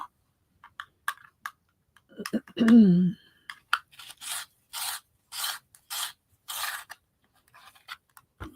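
A dark pastel pencil being sharpened, heard as a run of about six even, close scraping rasps in steady rhythm after a brief low vocal sound, with a few light ticks around them.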